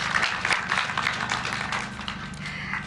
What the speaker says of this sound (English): Please let us applaud our teachers.